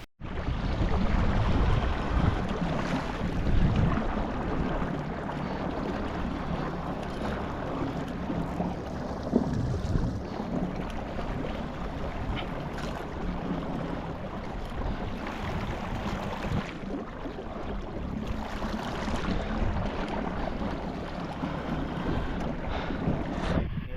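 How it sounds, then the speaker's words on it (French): Strong wind buffets a fishing boat on the Loire river, a loud continuous roaring rush with gusts and water sounds, steady throughout with no voices. "je sais pas si vous m'entendez avec le vent"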